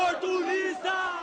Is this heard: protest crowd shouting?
yes